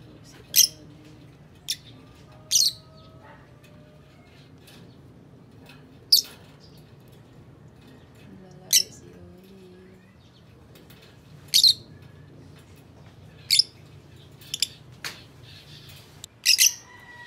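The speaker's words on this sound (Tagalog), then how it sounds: "Papakita ko sa inyo ngayon yung aking alaga, yung aking lovebirds." Pet lovebirds give short, sharp, high chirps, spaced several seconds apart over a quiet indoor background, each call brief and fairly close.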